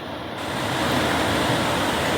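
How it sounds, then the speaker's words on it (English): A seasonal waterfall flowing, a steady broadband rush of falling water that swells slightly in the first half second and then holds constant, fairly soft and alone. "look at that beautiful waterfall"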